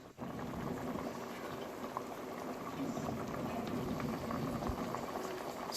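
A covered pot of meat and red palm oil for Nigerian soup boils steadily, a close, continuous bubbling simmer that holds an even level throughout with no talk over it.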